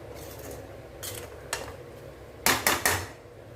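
A spoon scraping and knocking against a pan while homemade mushroom pickle is mixed, a few faint scrapes followed by three sharper clinks close together near the end.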